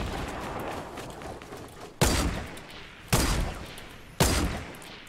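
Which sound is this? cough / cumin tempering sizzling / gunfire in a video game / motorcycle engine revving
gunfire in a video game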